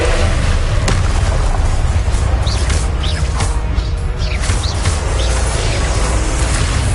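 Confringo blasting curse going off in a Harry Potter video game: a dense, loud rumbling boom with crackling bursts layered over a continuous roar of spell effects, several short whooshing streaks cutting through, with no voices.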